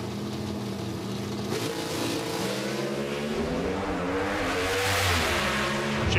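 Pro Stock drag racing cars at the Lucas Oil Nationals in Brainerd launch at full throttle, a loud sustained engine roar that climbs in pitch through the gears, with no voices over it.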